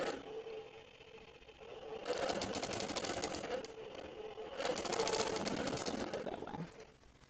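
Longarm quilting machine stitching a holiday quilt: two sustained bursts of fast mechanical whirring, each a couple of seconds long, separated by a quieter motor hum, fairly soft overall.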